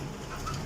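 A rare desi Piplan wala pigeon, a young female, gives a brief low coo that is short and close, with a soft fowl-like warble and no one speaking.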